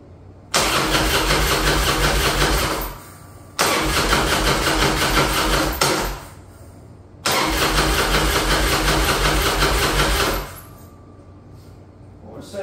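Harley-Davidson Softail motorcycle with a no-spark fault, cranked on a freshly trickle-charged battery: three loud, steady cranking bursts of about two to three seconds each, separated by short pauses, with no clear catch into idle.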